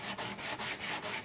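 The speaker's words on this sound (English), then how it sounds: "I'm gonna sand it." Painted wood on a small birdhouse being sanded by hand, heard as a steady run of close, rhythmic rasping strokes, about five back-and-forth passes, loud and alone with no talk.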